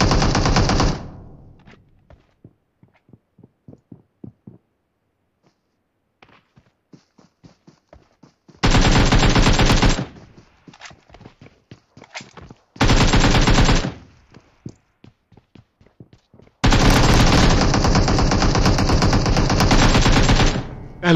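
Gunfire in the mobile game PUBG Mobile on the Rozhok map: loud, close automatic bursts lasting a few seconds each, separated by quieter stretches of scattered single shots and footsteps.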